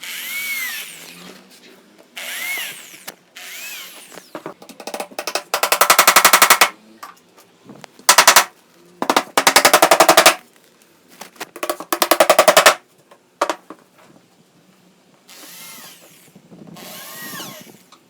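Small 3.5 cm nails driven into a recycled-wood workbench top, heard as bursts of rapid, loud percussive impacts separated by short pauses, with no talk.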